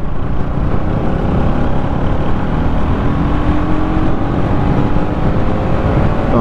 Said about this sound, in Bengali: এখানে হাওয়ার আওয়াজটা সব থেকে বেশি টানবে।